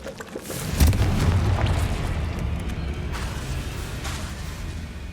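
A fiery Confringo spell blast in Hogwarts Legacy bursts with a deep, loud boom, then rumbles on as sustained low roaring and crackling debris for several seconds.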